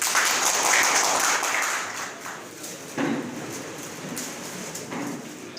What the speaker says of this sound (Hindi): तालियां हो जाए।